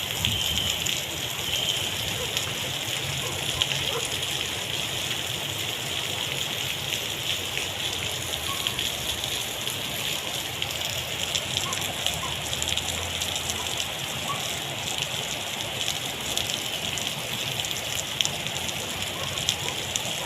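Heavy typhoon rain in the Philippines, a dense, unbroken hiss of downpour at steady loudness throughout, with rushing water beneath it.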